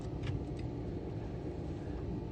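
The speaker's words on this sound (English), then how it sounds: "there's other car taking off out of the parking lot" A car pulls out of a parking lot and drives off, a steady low engine rumble filling the short stretch without much change, fairly close and continuous, with no talking.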